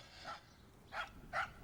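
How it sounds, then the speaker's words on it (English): A dog barks three times in short, evenly spaced yelps that sound faint and somewhat distant against a quiet indoor background. "Shut that dog up."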